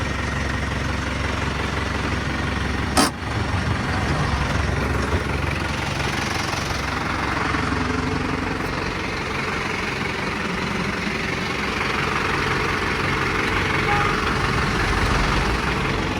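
A New Holland TT4.75 tractor engine runs steadily after starting, a continuous low rumbling drone close by, with one brief click early on.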